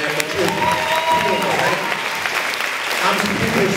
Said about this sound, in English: Y'all give yourself a hand clap, man.